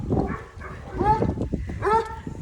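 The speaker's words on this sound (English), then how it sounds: "you see those dogs?" Dogs barking outdoors near a house, a few sharp yips and barks in bursts, moderately close, with a person talking over them.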